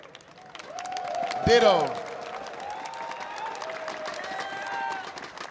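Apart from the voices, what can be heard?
tournament crowd applause at Evo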